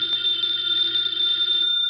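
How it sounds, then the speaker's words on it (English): A telephone bell rings in a 1951 detective radio drama, a steady, unbroken ring that carries loud and clear for about two seconds with no voices over it. "Answer the phone, Archie."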